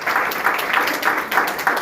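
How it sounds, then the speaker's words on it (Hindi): A church audience claps in praise of Jesus Christ, a dense, even patter of many hands that swells in a few waves and carries on for a couple of seconds, with no talking over it. "आइए जोर ताली बजाएंगे प्रभु यीशु मसीह के लिए"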